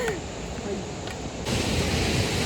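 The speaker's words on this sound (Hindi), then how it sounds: "वाटरफॉल पे पहुंच चुके हैं हम।" A waterfall heard outdoors as steady broadband rushing water that grows noticeably louder and denser midway through, with no talk over it.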